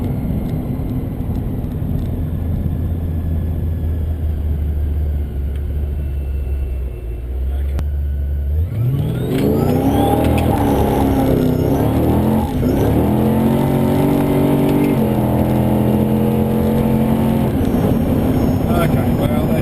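A 650rwhp VE SSV Ute with a T400 transmission idles low and steady, then revs hard up through the gears in a loud, close run of rising and dropping engine pitch.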